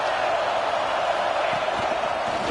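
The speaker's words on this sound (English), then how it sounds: "This crowd rising up, sensing that its defense needs some help." Stadium crowd at a college football game, Texas against Iowa, roaring steadily as the defense is pressed near its own goal line, a dense sustained wash of many voices with no break across the moment.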